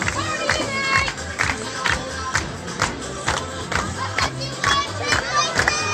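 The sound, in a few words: crowd cheering in baseball stands after insurance run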